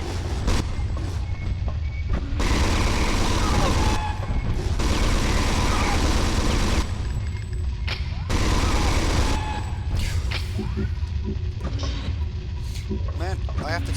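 Rapid, dense gunfire from weapons in the PS1 game Alien Resurrection comes in long loud bursts separated by brief lulls, with game noise and a voice speaking over it.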